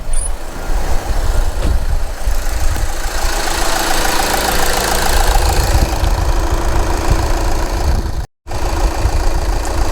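Rough, uneven idling of a Volkswagen TDI diesel car engine with a fuel leak, a continuous knocking rumble close by with a brief dropout near the end.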